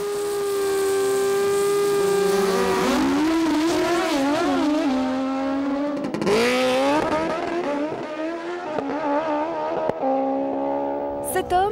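Drag racing cars scream down a 400 m strip with a loud, sustained engine whine that rises and wavers in pitch, then drops away as the cars pass, with a voice talking over the roar.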